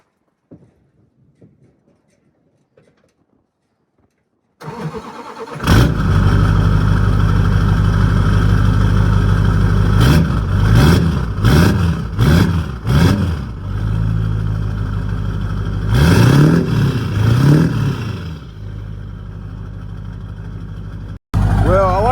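An LB7 Duramax diesel truck with a 5-inch exhaust starts after a quiet pause, then settles into a steady, loud diesel idle with a few brief rises in engine note and some clattering.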